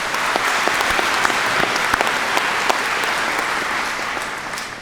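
An audience at a high school graduation ceremony applauds steadily, a dense wash of clapping that holds for several seconds and then slowly fades.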